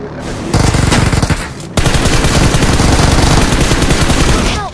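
Sustained automatic gunfire from PUBG Mobile, loud and close: a burst of rapid shots, a brief pause, then an unbroken stream of fire.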